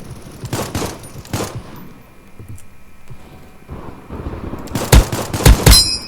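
Gunfire in the first-person shooter game Krunker comes as loud, rapid bursts of shots, with one cluster at the start and a denser volley near the end, and a quieter gap between them.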